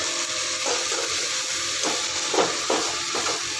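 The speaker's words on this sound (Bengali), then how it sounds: "একটু নাড়াচাড়া দিচ্ছি, নাড়াচাড়া দিয়ে এবার নামিয়ে দেবো।" Pointed gourd bharta being stirred in a frying pan, a soft continuous sizzle and hiss broken by several scraping strokes of the spatula.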